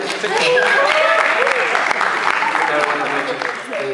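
An audience at a university engineering faculty applauds the president, dense clapping that holds steady and loud for several seconds, with voices cheering and talking mixed into it.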